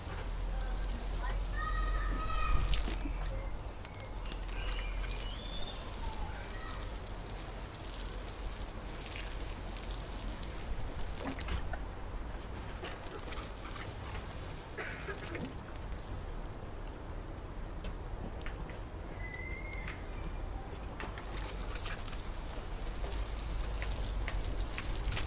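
Water poured little by little over a hanging basket of plants destined for a greenhouse, a steady patter and trickle of droplets on soil and leaves running throughout, with faint bird chirps in the background.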